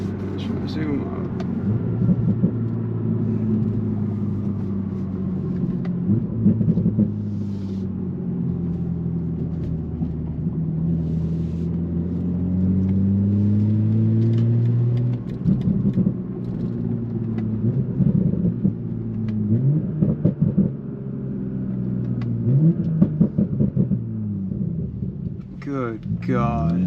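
A car engine rumbles and revs in long rising and falling waves, loud and close, with a voice talking over it at times.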